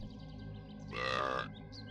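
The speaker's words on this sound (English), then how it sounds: "Burp." A single loud burp from a person playing Spyro: Year of the Dragon, a short harsh voiced belch lasting about half a second over steady game music and effects.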